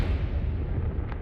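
A Confringo spell explodes in Hogwarts Legacy, a heavy low rumbling blast that booms and rolls without pause for about a second, with a brief crackle near the end.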